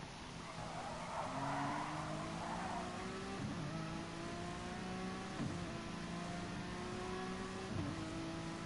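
A Honda NSX GT3 race car in Gran Turismo Sport at Bathurst screams through the gears, its engine note climbing in repeated upshifts and downshifts with brief tire scrubs, loud and steady with no voices.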